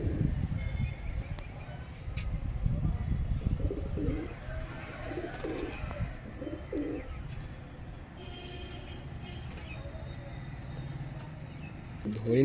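Pigeons in a loft coo softly in low, throaty bursts, several calls spaced through the middle, with rustling and handling noise around them and a voice talking nearby.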